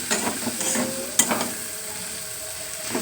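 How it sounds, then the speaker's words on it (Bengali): Food frying in a pan with a steady sizzle, stirred with a utensil that scrapes and clinks a few times, close and without voices. "আর একটু ভাজা হবে, তা একটু ভেজে নিই আমি।"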